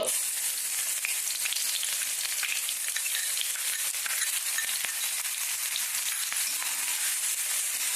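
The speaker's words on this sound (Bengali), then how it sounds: "এখন আমি পেঁয়াজ ভাজবো পেঁয়াজ কুচি" Chopped onions fry in a pan for an egg dish, a steady, dense sizzle that hisses evenly throughout, close and unbroken, with no voices over it.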